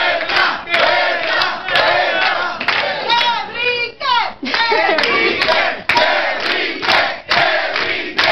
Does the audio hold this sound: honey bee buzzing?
no